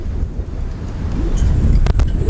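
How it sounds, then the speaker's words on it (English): Steady wind buffeting outdoors at a harbor, a constant low rumble with gusty roughness throughout, and a couple of brief sharper bursts near the end. "Where it's cold and windy."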